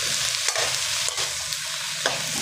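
Large shrimp are tossed into a pan and stirred while a squash and string bean coconut-milk dish cooks, giving a steady close sizzle with repeated scraping stir strokes and no talking.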